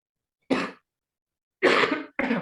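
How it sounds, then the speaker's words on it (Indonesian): Three coughs close to the mic, one alone and then two in quick succession after a pause. "Maaf, Bapak batuk terus ini."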